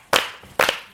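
Two sharp hand claps about half a second apart, close and crisp, during a Korean morning TV show's dance-move hint segment.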